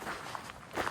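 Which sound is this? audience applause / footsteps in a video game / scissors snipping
footsteps in a video game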